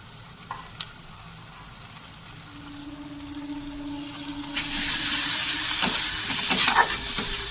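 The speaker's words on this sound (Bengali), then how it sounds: "পেঁয়াজটা আমার ভাজা ভাজা হয়ে গেছে" Onions frying in a pan with ginger, garlic and green chillies, a faint sizzle that swells into a loud, steady crackling hiss halfway through, with occasional scraping stirs.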